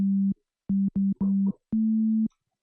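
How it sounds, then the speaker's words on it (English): A pure, low electronic tone sounds in five separate bursts of varying length, each starting and stopping with a soft click. "This is a sound of a sine wave."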